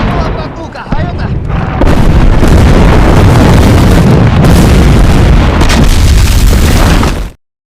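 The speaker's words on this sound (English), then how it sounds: "Many Soviet Union soldiers were injured and even killed as a result of a barrage of artillery attacks." An artillery barrage in a war film about Soviet soldiers fighting German Nazi tanks: loud, dense, rumbling explosions pile up into a continuous roar of blasts before ending abruptly.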